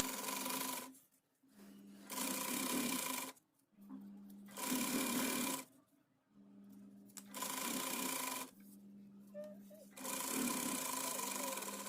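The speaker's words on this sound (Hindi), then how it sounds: "इसे आधे इंच पे फोल्ड करते हुए सिलाई लगा लेंगे" Sewing machine stitching a half-inch folded canvas bottom hem of a semi patiala salwar, running in five bursts separated by short pauses, close and clear, with quiet speech in the gaps.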